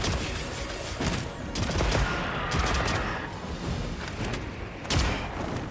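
Light bowgun ammo in Monster Hunter Wilds fires and detonates in a dense volley of loud shots, thuds and bursts, repeating in quick succession with a heavier blast near the end.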